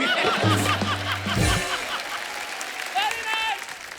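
Studio audience at a Hindi comedy show claps and chuckles, the applause moderate and scattered, mixed with light laughter and a brief low vocal hum near the start, fading to quieter crowd noise.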